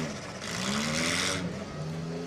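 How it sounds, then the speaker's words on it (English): A demolition derby car engine revs at a Granite City track, rising and holding a loud, steady roar before easing off, with crowd and other engines in the background. "Oh, Charlotte's car sounds real good"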